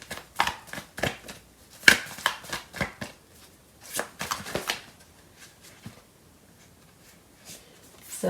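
Tarot cards being shuffled, with irregular close snaps and riffles scattered across several seconds, some bursts clustered and others isolated, separated by quiet gaps.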